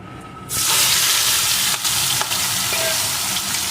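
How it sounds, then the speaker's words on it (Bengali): Salted, turmeric-coated prawns hit hot mustard oil in a wok and burst into a loud, sudden sizzle that holds steady with a few faint clinks and pops. "এখন চিংড়ি মাছগুলোকে আমি ভেজে নেব"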